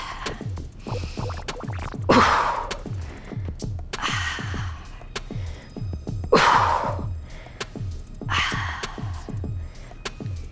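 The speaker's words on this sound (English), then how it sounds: "I'm exaggerating my breathing here because I want you to be breathing right" Exaggerated, heavy breaths from someone doing double crunches in a cardio core workout swell and fade a few times over a steady rhythmic beat.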